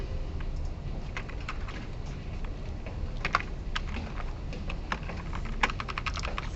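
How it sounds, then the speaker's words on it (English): Code being typed on a computer keyboard during a recorded lecture on the R language: a steady stream of close key clicks with irregular rhythm over a constant low room hum, with no talking. "I hope this works since we're taking the time to type it"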